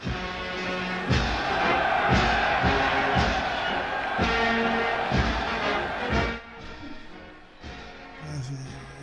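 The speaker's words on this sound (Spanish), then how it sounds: "Una multitud espectacular nos aplaudía con afecto y entusiasmo." A large stadium crowd at the 1936 Berlin Olympics opening parade roars and applauds continuously, with rhythmic thumping beneath, then the noise drops off toward the end.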